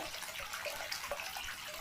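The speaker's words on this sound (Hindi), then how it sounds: "दिखने में किसी आम बर्फ के ग्लेशियर के पिघलने से निकलने वाला यह झरना" Steady broadband rush of a glacier-fed waterfall at the source of the Brahmaputra river in Tibet, heard as a continuous even wash of falling water with no voices.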